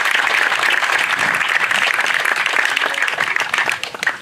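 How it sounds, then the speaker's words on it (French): A crowd at the inauguration of a veterinary clinic in Isola applauds the town hall staff, brisk dense clapping that stays strong for several seconds before thinning slightly at the end. "je voudrais bien qu'on applaudisse les services de la mairie"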